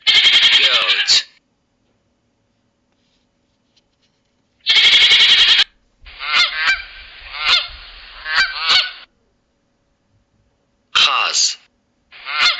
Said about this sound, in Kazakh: Қаз.